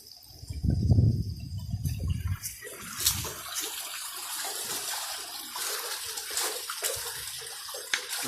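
Irrigation water from a Punjabi charkha, a traditional village well wheel in Pakistan, gushes steadily into crop fields. It is a continuous, close splashing rush, with a few low thuds near the start.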